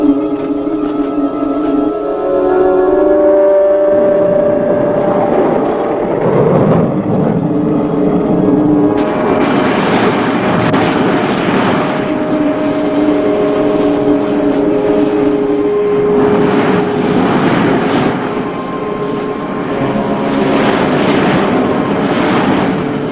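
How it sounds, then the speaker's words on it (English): An aircraft engine drones loudly and steadily as the craft comes in to land with its landing legs extended, the roar swelling and easing in waves for the whole stretch, with no voices. "We're coming about for a landing."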